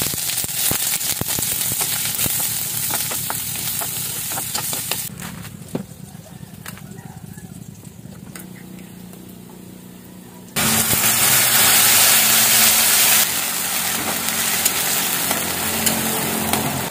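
Sardines frying in cooking oil, a steady crackle that thins out for a while, then jumps to a loud, dense sizzle that holds to the end.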